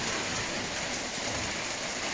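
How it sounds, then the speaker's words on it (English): Rain drums steadily on a workshop roof, a constant close patter with no pauses and no talking. "Should be out playing, but it's for the rain on that roof."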